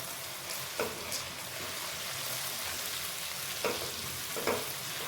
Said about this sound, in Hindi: तीन से 4 मिनट के लिए इसे मैं फ्राई करूँगी।